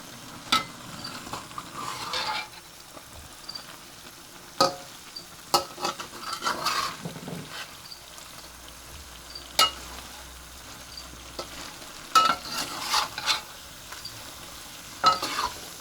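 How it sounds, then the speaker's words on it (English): Dried bean curd is stirred in a lidded pan, with repeated scraping and clinking of a utensil against the pan over a soft steady sizzle, close and fairly quiet, with no talking. "Now I'm going to mix this around in there carefully."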